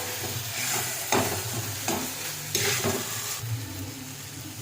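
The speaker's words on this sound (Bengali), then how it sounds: "মশলার সঙ্গে ভাতটাকে কষাবো" Gobindobhog rice sautéed with spices in a pan, a steady sizzle punctuated by several scraping stirs at irregular intervals, close and clear with no talking.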